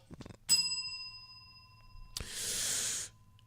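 A single clear bell ding rings out and slowly fades, followed by a short burst of hissing breath-like noise.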